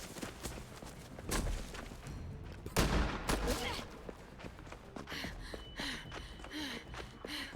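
Gunfire in The Walking Dead Final Season video game: a few sharp bursts of shots crack out over a muffled, busy background, then quieter movement and breathy voice sounds follow.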